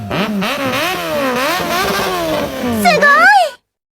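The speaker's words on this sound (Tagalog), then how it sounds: "Gusto mo magtunog big bike yung Raider mo, yupin mo lang yung tansan ng red horse tapos salpak mo sa muffler." A Raider motorcycle with a beer bottle cap jammed into its muffler revs hard several times, its raspy engine note rising and falling up close and loud before cutting off abruptly.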